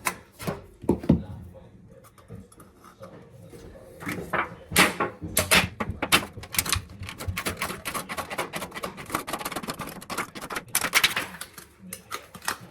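Tin snips cutting an aluminum dryer vent periscope, a rapid series of sharp metallic crunching snips that grows denser and louder as the cutting goes on, close by, with no talking.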